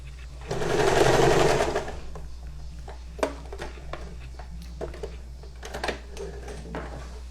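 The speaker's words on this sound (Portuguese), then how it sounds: "Eu sempre faço no zigue-zague. Eu gosto mais do zigue-zague para fazer esse tipo de costura." A Janome portable sewing machine runs a zigzag stitch in one steady whirring burst of about two seconds, followed by quieter clicks and handling noises.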